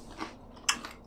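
A person bites into crunchy toffee with chocolate and nuts, giving a soft crunch followed by a sharper, louder crack and brief chewing, all close and quiet with no talking.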